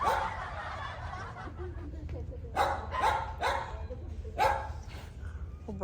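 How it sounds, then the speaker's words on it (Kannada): Several dogs bark in short, sharp bursts at irregular intervals at a moderate distance in a zoo in Ajman, UAE, with faint voices and a chuckle around them. "ಇಲ್ಲಿ ಫುಲ್ ನಾಯನ್ನೆಲ್ಲ ಫ್ರೀ ಬಿಟ್ಟಿದ್ದಾರೆ"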